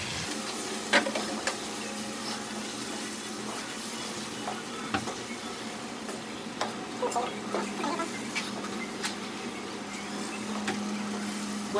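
Cooked, chopped octopus stirred into a spicy mixture in a pan over medium heat, a soft steady sizzle broken by repeated scraping and tapping of a utensil, with no talk.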